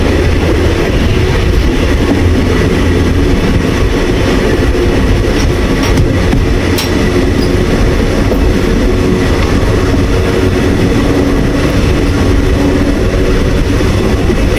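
A passenger train rumbles along loudly and continuously, its heavy low roar steady throughout with faint rattling and clicks.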